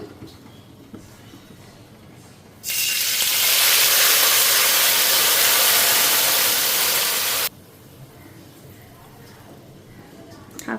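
Fish dropped into a hot pan bursts into a loud, broad sizzle that holds steady for several seconds and then cuts off, with quieter kitchen sounds before and after.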